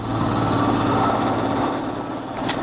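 Motorcycle engine on a Mumbai–Ladakh–Mumbai bike trip, riding out from a hotel in Rajasthan toward Chandigarh: a steady, loud, close high-pitched drone with wind noise throughout.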